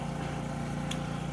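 Motor of a Brewer Science 100 spin coater accelerating from rest toward 6,000 RPM, heard as a dense steady whir with a low drone and one brief high click.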